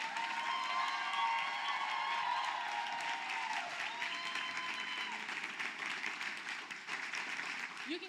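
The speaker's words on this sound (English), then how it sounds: "You can keep clapping." An audience at a ceremony applauds and cheers as a speaker is welcomed on stage, dense sustained clapping with whoops and voices, heard from a distance and fairly faint, continuing steadily for several seconds.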